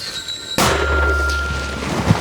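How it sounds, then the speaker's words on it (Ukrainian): A single sharp, heavy mortar blast goes off abruptly, followed by a sustained low rumble that lingers and slowly fades, on a frontline firing position near Vuhledar, Ukraine. "Постріл!"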